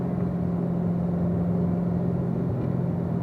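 A Corvette Z06 engine accelerates up a hill on a track, a loud steady low drone and rumble heard from inside the car. No one talks over it.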